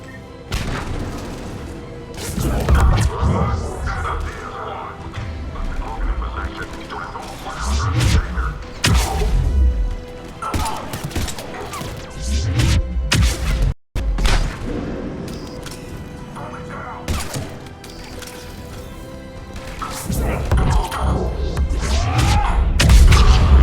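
Gunfire and heavy explosions rattle through a besieged checkpoint in Mass Effect 3, with repeated booms and volleys of shots throughout, a brief cut of silence midway, and voices talking over the combat.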